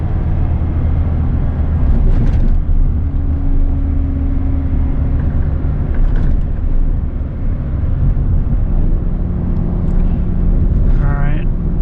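An 8.1-litre gas V8 truck towing 18,000 pounds coasts downhill with no throttle, giving a steady, loud low engine and road drone throughout with wind and tyre roar.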